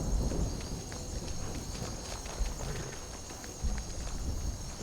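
Horse hooves clip-clop steadily in modded Skyrim Special Edition on survival mode, a rhythmic walking gait of moderate loudness over a faint ambient background with no talk.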